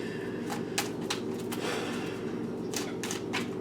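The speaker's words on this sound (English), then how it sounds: "I have to shuffle these." Quiet, quick riffling snaps of cards being shuffled, several short bursts close by over a low background hum.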